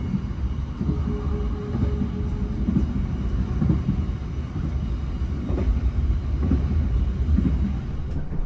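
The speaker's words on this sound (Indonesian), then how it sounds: "jadi ini dia untuk kereta api Ranggajati di kelas bisnis" Inside a Ranggajati business-class train carriage, a steady low rumble runs throughout, with faint rhythmic clacks from the wheels on the track.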